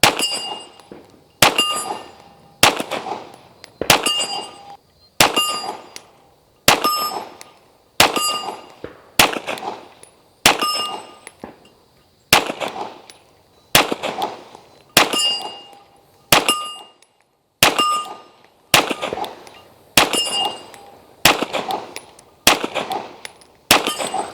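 Pistol firing Blazer 124 grain ammunition at an outdoor range: about seventeen sharp shots at an even, unhurried pace, each with a ringing metallic clang and short echo, and no talking between them.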